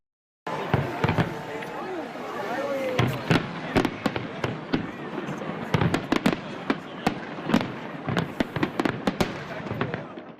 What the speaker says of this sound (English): A massive 10-minute-long fireworks display from Harbourfront Centre lit up the night sky